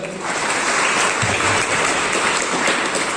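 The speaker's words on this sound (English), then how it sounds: "Everybody clap for Sairaj." An audience claps together for a person called up in a talk on startups and creating new products, producing a loud, dense, sustained round of applause from a sizable crowd, steady throughout.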